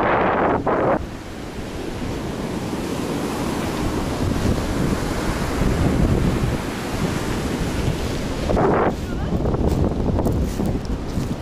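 Sea waves wash onto a cold, windy beach at Alanya, Turkey, in February, with steady surf and heavy wind rumble on the microphone throughout and a couple of brief louder gusts.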